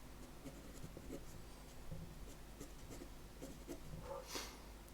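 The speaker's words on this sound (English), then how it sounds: "actually just sketching in the positioning of that table lamp just now" Pencil sketching a line drawing on paper, marking in the position of a table lamp: soft, faint scratchy strokes repeating steadily for several seconds, close and quiet.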